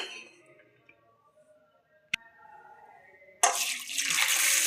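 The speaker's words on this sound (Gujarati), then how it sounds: "આપણે 2 પાણી ધોઈ લેશું" Soaked masoor lentils being washed in water for Gujarati khichdi, with faint clatter, one sharp knock, then a loud, close rush and slosh of water filling the vessel.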